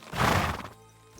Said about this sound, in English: And the horse should be right here.